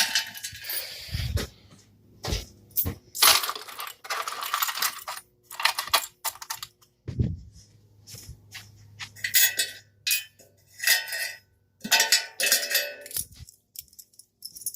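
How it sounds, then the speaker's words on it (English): Metal keys clink and jingle as they are handled and put back, a series of separate bright rattling bursts with short quiet gaps between them, close and alone without speech. "we're going to go ahead and put our keys back"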